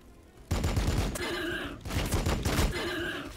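Dense bursts of rapid gunfire from the Warhammer 40K: Battlesector video game, two loud, sustained volleys back to back, close and rattling.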